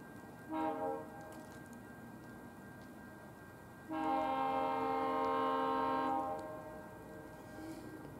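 GO Transit train E3775 sounds its horn while passing through St. Marys, a brief blast followed by a longer sustained chord, heard from a moderate distance over low rail rumble.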